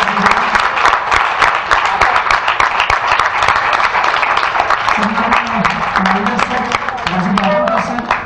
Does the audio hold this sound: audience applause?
yes